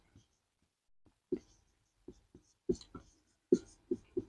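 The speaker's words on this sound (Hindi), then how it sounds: "तो यहां पर हम लिख देंगे एक पॉइंट में" Pen or chalk strokes during a class 11 biology lesson as a point is written down, a handful of short, sharp taps and scrapes spread unevenly over a few seconds, close and fairly quiet against near silence.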